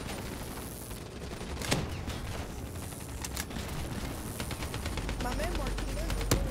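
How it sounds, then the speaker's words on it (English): Gunfire in the Call of Duty: Black Ops 3 video game, with dense rapid bursts and sharp cracks going nonstop under excited shouting and talk. "Yo, yo, keep shooting!"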